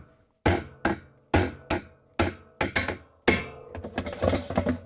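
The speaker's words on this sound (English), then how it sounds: "I'm going to use a chisel and this nice mallet, and I'm going to try to cut out that" A chisel struck repeatedly with a mallet while cutting out a washing machine clutch piece from an LG/Kenmore clutch assembly: about eight loud, sharp close-up knocks at a steady pace, followed by a quicker cluster of lighter taps.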